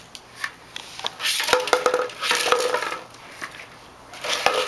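Metal pans clatter and clank together in irregular bursts as they are picked up and shuffled about, close by, with no talking.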